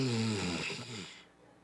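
A voice imitates snoring with a single drawn-out, rasping breath that trails off into quiet.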